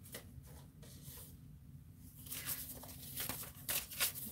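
Paper being handled during a goal-planning live stream, soft rustling and crinkling in short bursts close to the microphone, quiet and with no speech.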